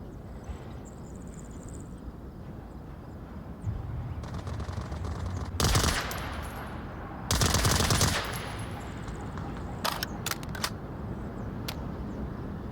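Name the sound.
gunfire in a video game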